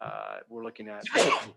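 A single sharp sneeze during a city commission meeting, coming right after a short stretch of speech.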